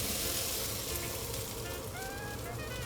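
Chicken chow mein noodles frying hard in a hot wok, a loud, dense, continuous sizzle with crackling and faint scraping, close and alone without talk.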